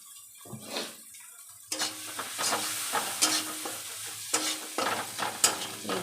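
Maggi noodles with red chili sauce sizzle and fry in a pan while being stirred, with repeated scraping strokes and clinks of the utensil against the pan over a steady close sizzle.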